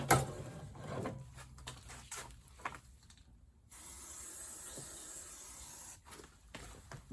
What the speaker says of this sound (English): I usually just use some brake cleaner.